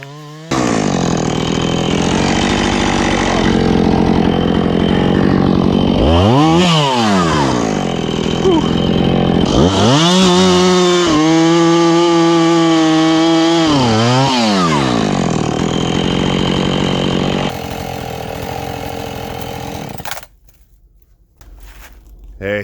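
A Husqvarna 445 chainsaw runs loud and close while cutting firewood logs, its whine rising and falling as the bar bites in and revs up, then idles down and stops near the end.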